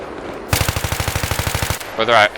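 A support machine gun in Battlefield 3 fires one loud, close sustained burst of rapid, evenly spaced shots lasting about a second, then stops. A short burst of another sound follows.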